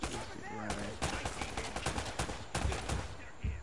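Gunfire in the Uncharted video game: loud, rapid bursts of shots crackling in quick succession, with a second flurry near the end, over ongoing game noise.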